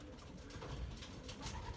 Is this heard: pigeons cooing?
yes